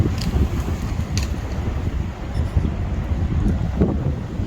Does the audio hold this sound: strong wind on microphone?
yes